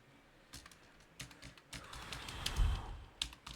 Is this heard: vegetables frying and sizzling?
no